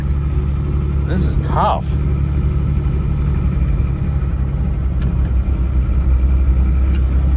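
A 1981 Datsun MQ Patrol with an SD33 diesel and four-speed gearbox drives along, its engine rumbling steadily and loudly from inside the cab while someone talks over it.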